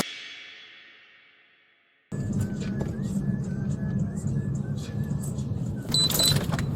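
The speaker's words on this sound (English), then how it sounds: "Vehicle taken off." A vehicle speeds away from a gas station pump, its engine and road noise a steady, fairly loud rumble for several seconds that swells toward the end, following a brief fading tone at the start.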